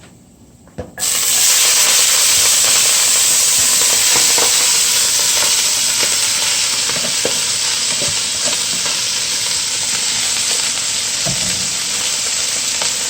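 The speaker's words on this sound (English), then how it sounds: "Now that the garlic sauteed in the pot, I'm gonna put in the collard green." Collard greens drop into a pot with sautéed garlic, starting from quiet into a sudden loud, steady sizzle and hiss that carries on close up with faint stirring clicks, no speech.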